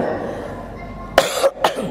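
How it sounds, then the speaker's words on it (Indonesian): Two or three short, harsh coughs close to the microphone, coming after a quiet moment of room tone. "Ana masih batuk ikhwan, afwan ya"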